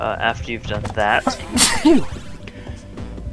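A short sneeze bursts out in the middle of a casual conversation, sharp and close, with people talking before and after it.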